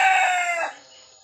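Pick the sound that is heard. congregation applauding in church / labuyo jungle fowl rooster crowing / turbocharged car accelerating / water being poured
labuyo jungle fowl rooster crowing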